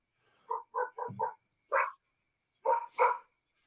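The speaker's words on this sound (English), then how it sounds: "it sounds like them dogs are literally in your house, bro" Several dogs bark about five houses away in Topeka, Kansas, yet the barks sound close and clear: a quick run of four short barks, a single bark, then two more, with silence between.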